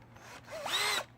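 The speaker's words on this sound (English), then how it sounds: "I'm gonna go ahead and use my drill" A cordless power drill drives screws into a wooden post for an outdoor tropical island sign, giving one short whirring run that rises in pitch and then stops, close and clear.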